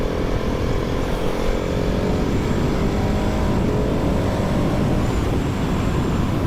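A Husqvarna 701 Supermoto engine drones steadily while riding out of town, a loud continuous roar mixed with heavy wind rush.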